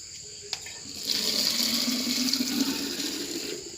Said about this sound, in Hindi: तो मैं यहाँ से पानी ले लेता हूँ।